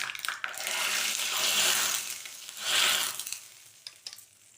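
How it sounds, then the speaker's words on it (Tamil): Tempered mustard seeds hit hot lemon rasam in two loud hissing, sizzling surges close up, each swelling then fading, followed by a few small pops and clinks as it settles. "கடுகு தாளித்து கொட்டிடலாம்."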